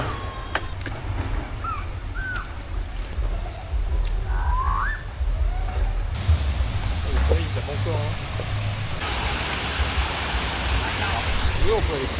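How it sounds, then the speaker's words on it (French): A small waterfall in Laos gives off a steady, continuous rushing hiss throughout, with faint bird whistles and chirps rising above the water noise. "nous sommes arrivés à une cascade toute mimi"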